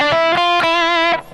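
A distorted, crunchy electric guitar played on the treble pickup rings out in a short lead phrase from a rock song, loud and sustained with a few plucked note changes before cutting off.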